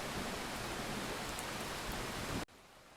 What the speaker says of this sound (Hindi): पिछले 3 दिनों से लगातार इसी तरह बारिश हो रही है।